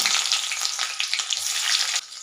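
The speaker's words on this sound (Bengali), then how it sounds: "এই কালো জিরে আর গোটা জিরে ভাজা ভাজা হয়ে গেছে এই পেঁয়াজগুলো দিয়ে দিলাম" Loud, crackling sizzle of onions hitting hot oil with fried black cumin and cumin seeds, close up, sputtering for a couple of seconds before easing slightly.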